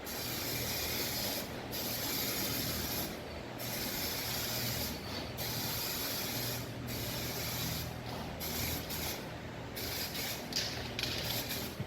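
Spray gun painting a Chrysler Valiant AP6 in original Chrysler red, a steady broad hiss in long continuous passes broken by brief pauses, close and fairly quiet.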